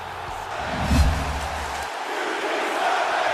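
A wrestling arena crowd in WWE 2K17 roars and cheers, swelling to a loud peak before settling into a sustained wash of crowd noise.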